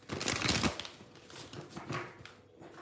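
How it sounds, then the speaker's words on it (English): Tarot cards being reshuffled by hand, a soft papery riffling and flutter that is loudest in the first moments, then continues as lighter intermittent rustles with no talking. "Let me just reshuffle."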